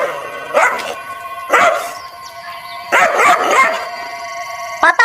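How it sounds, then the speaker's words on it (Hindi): A pet dog barks and howls loudly in three long, drawn-out bursts about a second and a half apart, close and harsh, with a short sharp sound at the very end. "ये आपका घर देखते ही बहुत जोर जोर से भौंकने लगता है।"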